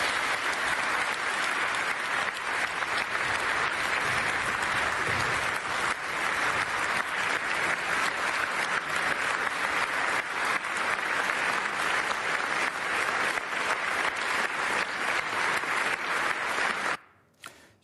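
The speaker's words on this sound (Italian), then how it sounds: "lunghi applausi" A large audience at a graduation ceremony for a biomedical engineering degree gives long, sustained applause, a dense and even roar of clapping that continues unbroken before cutting off abruptly near the end.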